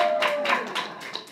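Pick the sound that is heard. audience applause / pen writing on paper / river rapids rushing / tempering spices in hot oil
audience applause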